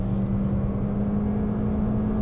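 A 2019 Toyota Corolla engine held at full throttle at high speed gives a steady, droning roar with a strong sustained hum. The sound is close and constant, with no talk.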